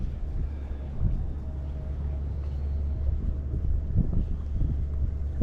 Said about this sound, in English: The nice, cold, extremely windy day out here on the water